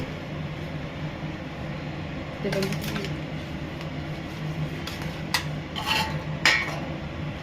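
A tadka pan being set down and handled while cooking rice, a few light metallic clinks and taps over a low steady background hum, moderately close and sparse.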